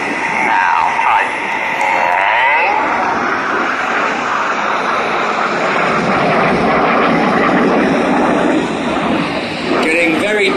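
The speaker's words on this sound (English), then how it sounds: "now this 5th jet is going to roll around them a dozen times." Red Arrows jets flying the twister manoeuvre at an airshow, a steady loud engine roar passing overhead for the whole stretch, with crowd voices and shouts mixed in beneath it.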